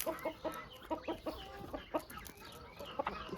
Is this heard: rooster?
yes